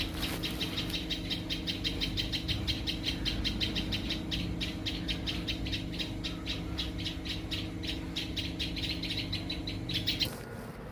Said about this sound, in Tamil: பறவை மிகச் சிறியதாக இருந்தாலும் அது எழுப்பும் சப்தம் மிகவும் பெரியதாக உள்ளது.